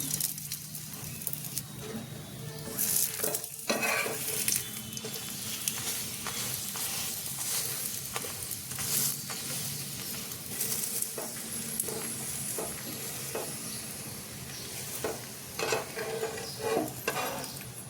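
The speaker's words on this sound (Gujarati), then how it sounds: "કાચી પાકી શેકેલી આ રોટલીને પાછી આપણે તવી ઉપર શેકી લેશું. બંને સાઈડ આપણે તેલ લગાવી લેશું." A partly cooked roti sizzles as it roasts in oil on a hot tava griddle. The frying crackle is steady and close, with occasional scrapes and light taps, and no talking.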